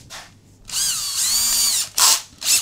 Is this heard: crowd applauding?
no